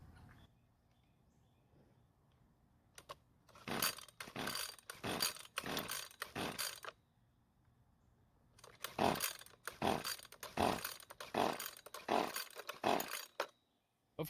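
A Husqvarna string trimmer, long left in storage, is cranked by its pull cord in two quick series of rasping pulls separated by a pause, the engine never catching.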